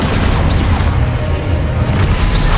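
A heavy, booming spell impact from the Hogwarts Legacy video game, a Descendo spell slamming a target down, giving one loud, dense, rumbling burst that fills the whole moment with no voices over it.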